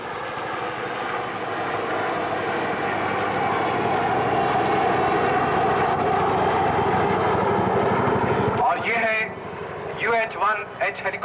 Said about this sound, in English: और उसके बाद ये लामा हेलीकॉप्टर्स की फॉर्मेशन